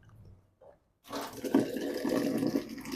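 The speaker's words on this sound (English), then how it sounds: "And I'm gonna drain this pasta." Water from cooked pasta is poured off into a sink, starting abruptly after a brief quiet moment as a steady gushing, splashing rush that continues to the end.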